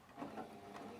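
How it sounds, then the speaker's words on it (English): A sewing machine runs stitching a straight line down a folded crease in fabric, a steady, moderately quiet mechanical whir with a slight rhythmic flutter, continuous for about a second with no voices. "I'm now going to put my fabric under my sewing machine, following that folded crease that I've made with my iron all the way down the centre"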